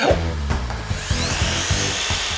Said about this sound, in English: Just using our miter saw, we created top and bottom panels with a slight inward angle.